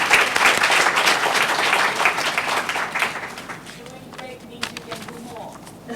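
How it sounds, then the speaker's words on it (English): An audience at an early childhood forum in Grenada applauds, the clapping loudest at the start and thinning into scattered claps as it fades. "So let's give ourselves another round of applause."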